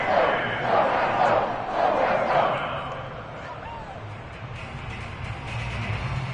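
Stadium crowd in a Colts football video game cheers and roars for the defense, loud waves of noise that swell early then settle into a steadier murmur, under a commentator's voice.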